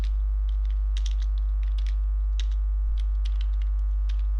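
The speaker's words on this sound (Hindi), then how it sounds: "यहाँ पे मैं टाइप कर लेता हूँ जान" Keystrokes tap out on a computer keyboard while text is entered in a word processor, a sparse run of light clicks with brief pauses and a low steady hum underneath, no one talking.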